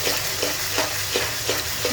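Ginger-garlic paste frying with onions in a pan for chicken bhuna, giving a steady close sizzle with a quick, regular scrape of the spoon roughly three times a second.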